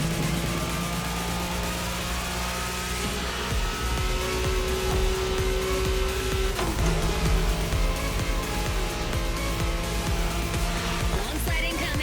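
A car engine accelerates along a straightaway in The Crew Motorfest video game, its tone climbing and shifting through gears, loud and continuous with tire and road noise beneath.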